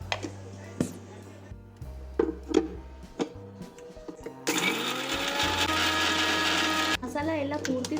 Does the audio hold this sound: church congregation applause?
no